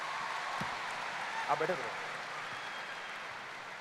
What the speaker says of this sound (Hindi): जोरदार तालियां हमारे वीनस लीडर प्रदीप मिश्रा जी के लिए